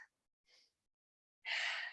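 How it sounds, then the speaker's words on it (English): A person takes a deep breath during a workout, short soft breathy puffs followed by a louder, longer close inhale. "Take a big deep breath."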